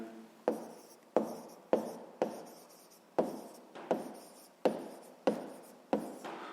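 A pen or chalk writes out a sixth-grade maths solution, with about ten crisp strokes and taps in an even rhythm, each followed by a short scratchy trail, close and clear with no talking.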